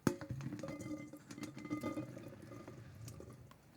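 Rinsed muscat grapes tumble from a colander into a pot with a soft, wet rattle and dripping water, faint and close, tapering off over a few seconds.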